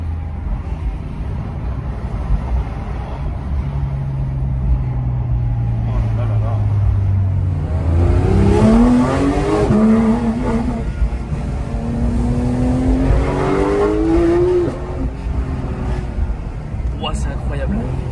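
A car engine revs and accelerates hard, pitch climbing in long rising sweeps, loud and close with a booming resonance, while excited voices talk over it.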